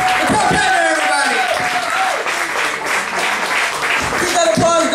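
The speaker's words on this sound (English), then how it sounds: "Keep that applause going." Crowd applauding at a comedy night in an Irish pub, loud continuous clapping and cheering heard underneath someone talking over it.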